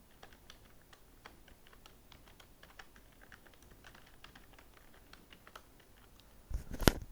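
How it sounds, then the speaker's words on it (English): Keys clatter in quick irregular bursts as someone types a short statement on a computer keyboard, soft and close, ending with a louder clunk. "Let me type a small statement."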